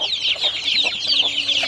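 Native country chickens raised naturally on a farm cluck close by, a steady run of short repeated clucks and murmurs with no talking.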